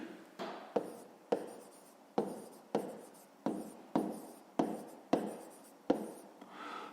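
Pen or chalk scratching out a maths solution for a fifth-grade exercise, in a steady series of short writing strokes close by, each with a sharp start and a fading tail, with no talking.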